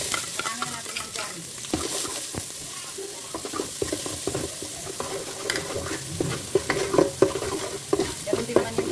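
Garlic and onion sizzle and fry in a pan for a Filipino vegetable lumpia filling, a steady close crackle broken by scraping stirs and clinks of a utensil, with no talking.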